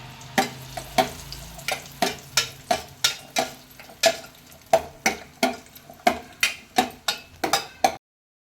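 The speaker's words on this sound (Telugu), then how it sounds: "జీడిపప్పులు వేయించేసుకోవాలి ఫస్ట్ ముందుగా, కిస్మిస్లు కూడా వేసేసుకోవాలి" Cashews and raisins fry in a pan with a soft sizzle. A spatula strikes and scrapes the pan in a steady rhythm, roughly twice a second, until it stops abruptly.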